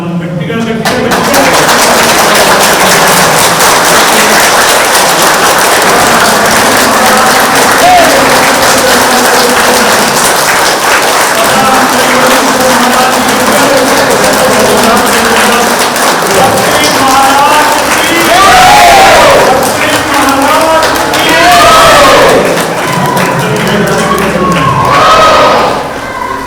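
A large crowd at the inauguration festival of a pyramid meditation centre in Nagarjunasagar claps loudly and steadily for a long stretch. Cheers and voices rise in the later part.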